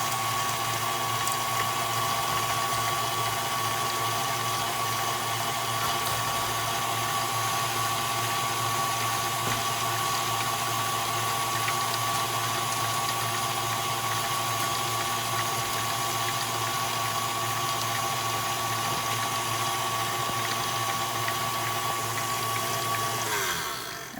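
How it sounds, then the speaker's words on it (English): An electric stand mixer works cookie dough with butter, holding a steady motorized whir and hum at moderate level throughout, then stopping at the very end. "I am going to turn that back on and mix that all together"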